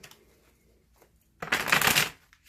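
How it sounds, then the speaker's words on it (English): Tarot cards shuffled by hand: a few faint taps and rustles, then a loud, close riffle burst lasting about half a second before fading, with a short flick at the end. "Let's go ahead and give those a good shuffle."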